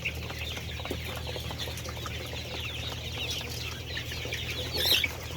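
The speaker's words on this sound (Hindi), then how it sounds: "फीड करते चूजे आपने देख लिए हैं" Golden Silver chicks clucking steadily while they feed, a continuous soft chorus of small peeps and clucks over a low hum, with a brief flurry of wing flapping near the end.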